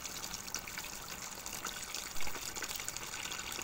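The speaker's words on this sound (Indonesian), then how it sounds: "Nah, kita isi airnya ya guys." Water gushes steadily from a tap into a bucket used for raising catfish fry, a close, continuous splashing fill with a brief louder splash near the end.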